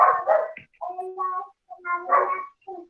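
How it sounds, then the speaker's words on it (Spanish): A small dog barks and yips in short bursts, close and fairly loud against a quiet background, heard during an online class on photovoltaic systems. "Hay un perrito en clase."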